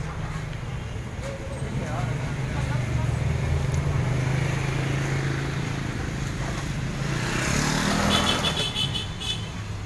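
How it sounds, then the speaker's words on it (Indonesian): A Yamaha RX King motorcycle being ridden, with a steady engine drone mixed with wind and road noise that holds throughout and swells slightly near the end. "Yamaha RX King yang nemenin kita belanja hari ini."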